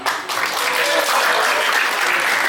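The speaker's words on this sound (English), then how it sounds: "First, can we get a round of applause to Henry?" Audience applause at the Six Flags Great America amusement park in Gurnee, Illinois: a steady, dense wash of clapping that swells quickly and holds loud and continuous throughout.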